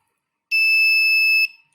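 A gas sensor buzzer alarm, triggered by gas, sounds loud and piercing in one steady high-pitched tone for about a second, then cuts off, with no other sounds around it.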